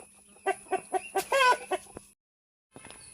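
Hens cluck in a quick series of close, loud calls, rising into a brief squawk, as chickens are herded into a coop; the clucking stops for a moment, then resumes.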